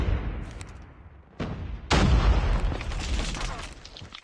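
In a multiplayer shooter video game, a flashbang grenade bursts with a loud boom, then a sustained rumbling roar of game noise and gunfire.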